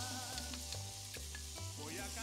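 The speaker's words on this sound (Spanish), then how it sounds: "vamos a colocarle la cebolla y un ají gustoso cortado en cubitos." Diced onion and sweet pepper fry in melted butter over a wood fire, a faint, steady sizzle broken by repeated stirring scrapes and a low, pulsing hum underneath.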